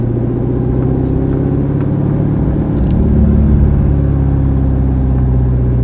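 A Chevrolet Corvette Z06 with an LT4 supercharged engine and a DSX supercharger lid idles and revs in a loud, steady low rumble, with a faint whine layered over the engine drone.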